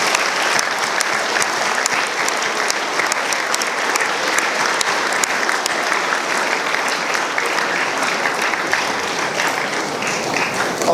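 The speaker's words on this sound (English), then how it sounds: "If we could give all those wonderful staff members a big round of applause" A school junior assembly gives staff members a long, steady round of applause, dense and loud clapping from a large crowd of students continuing evenly throughout.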